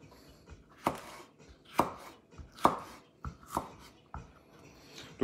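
A knife slices red and green bell peppers into thin strips on a cutting board, with about six crisp, evenly spaced chops close up and no talking.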